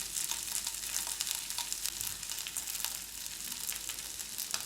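Potatoes being stirred with spices in a hot pan give a soft continuous sizzle with faint scraping movements, quiet and close, and no voices.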